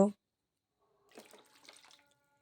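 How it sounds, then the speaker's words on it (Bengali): Raw tamarind being washed by hand in water, with about a second of soft splashing and sloshing after a brief knock at the start, fairly quiet and close. "আজকে প্রথমেই আমি তেঁতুলগুলো ভালোভাবে জল দিয়ে ধুয়ে নেব"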